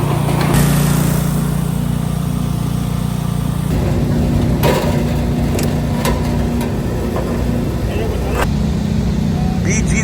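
A small gas engine drones steadily on a BG7 commercial gutter machine that forms 22 and 24 gauge steel gutter, a loud, constant hum with occasional knocks and clatter over it.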